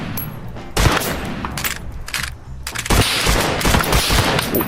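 Rapid automatic gunfire from the VR shooter Geronimo VR comes in loud close bursts separated by brief pauses, with no speech over the shots.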